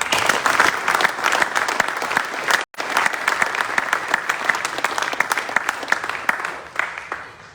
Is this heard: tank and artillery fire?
no